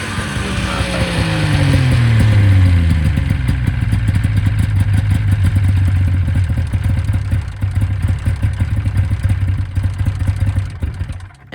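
A 1993 Polaris Indy XLT snowmobile engine flooding with fuel and idling roughly, winding down from a higher pitch to a loud, uneven, sputtering idle with clattering firing pulses close by.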